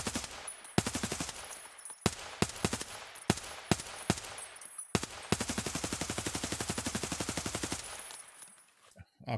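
RPK machine gun fired in the video game Escape from Tarkov: several short bursts, then one long sustained rapid burst of loud, close automatic fire, with brief gaps between bursts.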